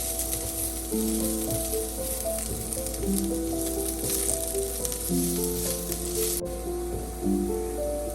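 Bitter gourd (karela) frying in oil for an onion and karela sabzi, a continuous close crackling sizzle throughout with no talk over it.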